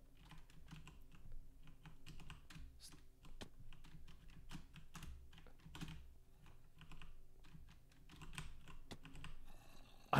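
Fast, continuous clicking of computer keyboard keys while someone plays Minecraft, quiet and close, with no talking.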